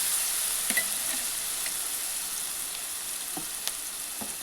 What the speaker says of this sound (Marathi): चांगला खरडा भाजून घ्यायचा आहे.